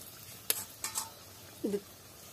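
A metal lid clinks onto a cooking pan holding Indian spinach stalks (pui data) for a Bengali data chosa dish, in a few brief clattering knocks, close and fairly quiet.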